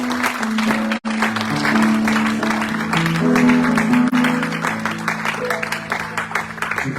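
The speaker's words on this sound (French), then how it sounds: "Est-ce que quelqu'un peut acclamer très fort le Seigneur?" A congregation cheers and applauds loudly for the Lord at an Easter church service, a sustained roar of clapping and voices blended with steady music that briefly dips once before carrying on.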